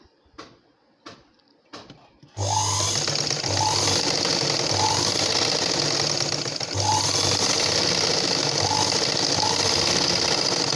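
A sewing machine stitches a thin side edge on a blouse, starting with a few short taps, then running in a loud, fast, steady mechanical whir with brief dips in rhythm.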